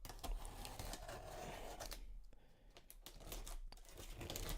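Cardboard packaging of a printed Hamsters vs. Hippos board game being opened, with steady crinkling, rustling and tearing close up, easing briefly midway before the handling picks up again.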